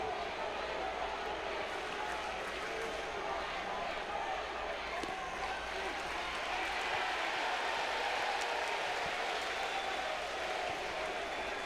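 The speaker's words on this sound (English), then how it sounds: "And the crowd letting home plate umpire Mike Morris hear about it" A baseball crowd at an NCAA regional game between LSU and Little Rock jeers home plate umpire Mike Morris after a call, a steady, dense roar of many voices that holds throughout and swells slightly near the end.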